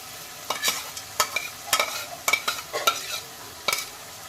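Spinach being stirred in a frying pan after adding fried onion and garlic, with intermittent scraping and clattering strokes over a faint sizzle, no talking.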